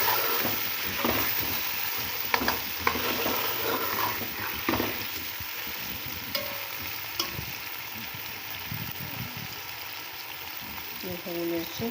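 Potatoes and peas frying in oil for aloo matar pulao, with a steady low sizzle and repeated stirring clatter that runs the whole way through at moderate volume, without any voices.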